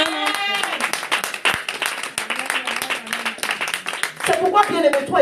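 A church congregation bursts into sustained clapping and applause, a lively wash of hands layered with voices and a sung or shouted line near the end.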